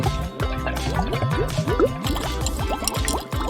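Chocolate milk pours into a container at close range, a loud, continuous liquid glug and fill with rising bubbly tones and splashy drips throughout.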